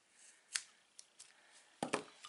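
Fishing line for a small plaque craft is snipped, leaving a few quiet, crisp cutting clicks with short pauses between them, close up in a still room.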